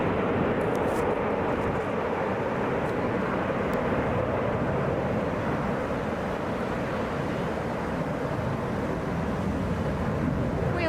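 A Boeing 717 airliner takes off from Atlanta's Hartsfield-Jackson airport, its jet engines a loud, even broadband roar that stays constant throughout, with no voices over it.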